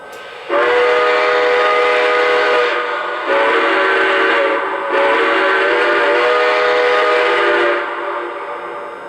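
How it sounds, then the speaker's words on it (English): Two long, loud chime-like whistle blasts from a Lionel Milwaukee Road 261 model steam locomotive, each held for a few seconds with a brief gap between them. "So here's the first whistle."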